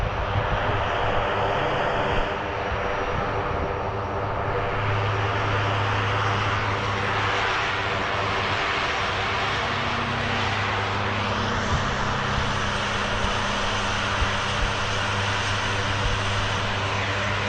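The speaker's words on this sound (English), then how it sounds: "Here it comes in. Right here. Full reverse thrust." An airplane landing with full reverse thrust, heard as a loud, sustained engine roar with a low steady drone that holds throughout, close by and with no talking.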